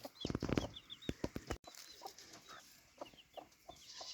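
Little chicks cluck and chirp in quick, high, close bursts, busiest at the start and then thinning out into scattered peeps.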